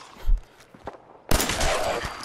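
Gunfire in Fallout 4, with a couple of muffled thumps and then a sharp, loud blast that trails into a dense, noisy burst of shots and echo lasting over a second.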